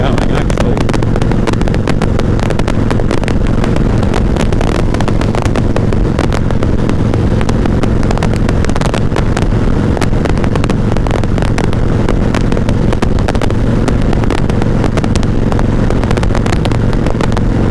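A 1988 Harley-Davidson Heritage Softail with a sidecar rides into a headwind, making a loud, constant roar of wind buffeting and engine rumble throughout, with heavy low-end turbulence.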